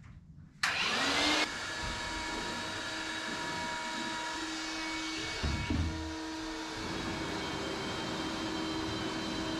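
A cordless battery-powered vacuum cleaner starts abruptly with a loud burst and then runs at a steady, close whine with a brief dip in pitch midway, no talking.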